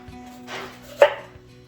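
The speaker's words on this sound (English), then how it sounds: "So I'm just going to go ahead and chop all these onions" A single knife chop lands on a cutting board while onions are cut, a short close thud with a faint preceding scrape, otherwise quiet.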